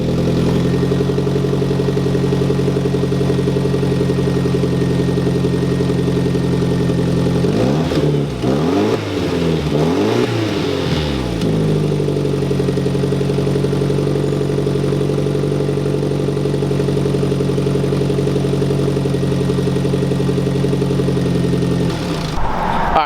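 A car engine with a new exhaust idles with a deep, steady rumble, then revs up and down several times through a throaty exhaust before settling back to idle.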